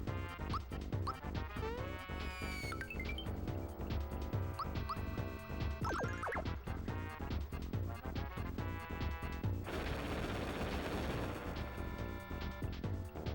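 Flame Wall fire spell in Super Mario RPG: a roaring, crackling burst of retro fire effects over bouncy game music, with a sustained noisy fire wash near the end.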